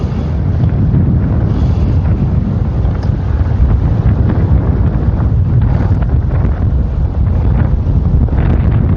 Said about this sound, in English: Very windy tonight actually.